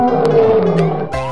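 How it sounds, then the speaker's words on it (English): A lion gives a loud, close, drawn-out roar with a rough, harmonic-rich growl that sinks in pitch before a brief breath and a fresh surge. "lion"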